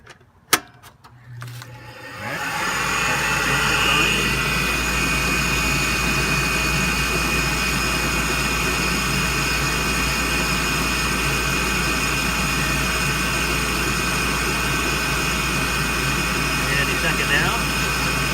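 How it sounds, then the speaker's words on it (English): A Ducane furnace blower starts up and runs with a steady, loud, broadband whoosh and low hum, preceded by a few brief clicks and knocks before it spins up. "Now that blower will be blowing cold air until I put that cover back on there"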